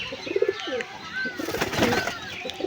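Pigeons coo softly at close range in a short burst, with low throaty calls and faint rustling of birds held for sale.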